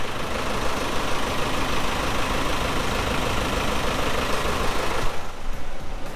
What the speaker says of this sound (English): you get to hear the diesel engine